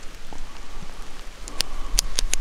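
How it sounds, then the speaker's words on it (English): Rain falling at night in the Michigan woods, a steady soft hiss with scattered sharp drip taps growing denser toward the end. "the rain's starting to pick up"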